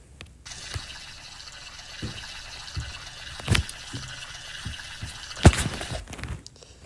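Shower water running in the Roblox video game, a steady close trickle and splash with scattered sharper drips and splashes over nearly seven seconds, no talking.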